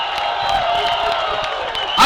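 A large rally crowd outdoors at a mass march in Luneta keeps up a dense, loud roar of shouting and cheering with scattered claps throughout.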